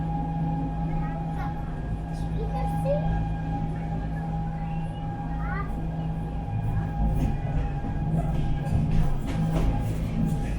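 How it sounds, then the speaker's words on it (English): An electric railway train in Stuttgart runs on the line between Degerloch and Marienplatz, giving a steady electric motor hum and rolling rumble throughout, with faint voices in the background. "this electric railway connects the districts of Degerloch to the other end of the line, Marienplatz"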